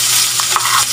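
Garlic and onion fry in a small amount of hot oil in a pan, giving a steady close sizzle with a few soft stirring scrapes and no voices.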